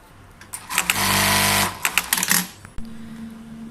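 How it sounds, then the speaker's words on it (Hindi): A Zoje industrial sewing machine runs in short stitching bursts, then whirs steadily for about a second, followed by the clicks and snaps of its thread trimmer cutting, close and fairly loud, with no voices. "ट्रिमर ऑन करेंगे, ट्रिमर भी चेक कर लेते हैं"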